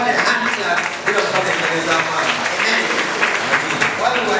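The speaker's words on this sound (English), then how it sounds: "Give the Lord a hand clap" A church congregation claps for the Lord in a continuous, dense roar of hands, with voices calling out over it throughout.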